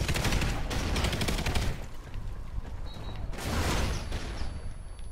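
Rapid automatic gunfire from Call of Duty: Ghosts, sustained bursts that crackle steadily and loudly through the whole stretch with a brief lull partway, dense and close.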